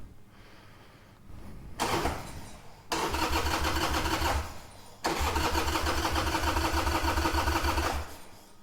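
An old Evo Sportster motorcycle cranks in cold winter weather, the starter grinding in two bursts before the engine catches and settles into a loud, steady, lumpy rumble close by, with no talking.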